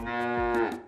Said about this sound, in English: Mr. Ben's cows.